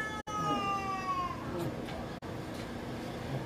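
A cat gives a long, drawn-out meow that slides downward over about a second, heard over steady background room noise during a conversation in Korea.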